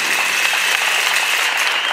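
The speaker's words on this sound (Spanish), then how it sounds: "un fuerte aplauso a todo su personal que el día de hoy nos acompaña" A crowd at a campaign visit in Puxtla applauds for a local candidate's staff, a steady, dense wash of clapping heard close and alone.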